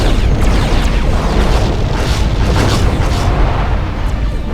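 A loud, rumbling explosion erupts as an enemy is shot and disintegrates in the Star Trek Klingon Academy space combat game, a dense booming roar that fills the whole moment with crackling debris layered on top.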